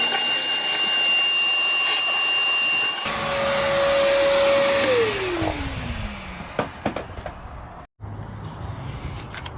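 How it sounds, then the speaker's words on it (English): Vacuum cleaner running steadily and loudly in the engine bay of a 2004 Toyota Sienna during a head gasket replacement, its whine winding down partway through before a few clunks and brief handling noises. "So now I'm gonna vacuum."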